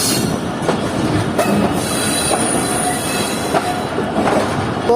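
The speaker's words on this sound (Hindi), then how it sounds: "आज इस ट्रेन की लीड पर लगा हुआ है लाहौर शहर का AG30 6017" Shah Hussain Express with Lahore-shed AG30 locomotive 6017 at a platform, rail cars rumbling steadily with intermittent wheel squeals and clanks, loud and continuous without voices.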